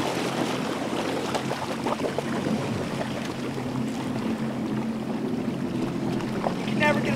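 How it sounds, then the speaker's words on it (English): A red 2004 Sea-Doo 200 Speedster jet boat spins tightly on open water, giving a steady broad engine and water rush with wind noise throughout, fairly loud and continuous. "These boats will spin around on a dime."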